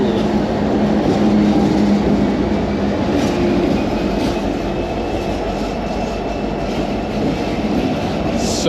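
A train pulled by seven locomotives passes the Eugene, Oregon train station, making a loud, continuous rumble with rolling wheel noise and a faint metallic squeal, steady from start to end.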